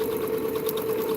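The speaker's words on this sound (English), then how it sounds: "Sewing with one hand." A sewing machine stitches a quilt while being steered with one hand, a steady close mechanical whir with a constant hum throughout, no talking.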